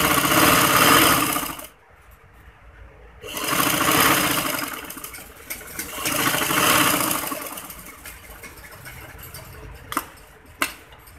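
A sewing machine stitches piping onto a handkerchief-cut frock, running in loud continuous bursts with brief pauses between runs and a few sharp clicks near the end.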